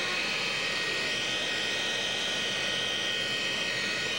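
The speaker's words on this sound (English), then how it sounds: "here is the plane you can see taxiing in right now" An airplane taxis in at an airport with a loud, continuous jet engine whine and roar, close by and unbroken, with no voices heard over it.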